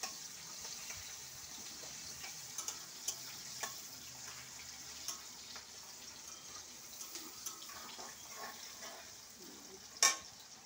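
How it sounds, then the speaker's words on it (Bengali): Onion and nigella seeds fry in oil for a Bengali dried-fish curry, giving a soft, steady sizzle with occasional sharp pops and light clicks of a spoon, heard near and alone without speech. "পেঁয়াজটা আমি এবার একটু ভাজবো।"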